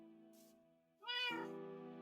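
A cat in a video game, belonging to a witch in a potion shop, lets out one clear, drawn-out meow that rises and falls over a soft, sustained musical drone.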